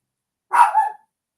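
A single sharp dog bark, close and loud, standing alone in silence.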